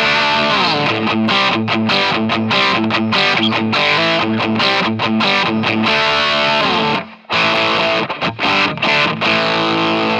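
Distorted electric guitar played through the ToneStack Pro amp simulator app on its initial patch, a dense, loud stream of driven chords and notes that pauses briefly near the seventh second, then resumes with no talking.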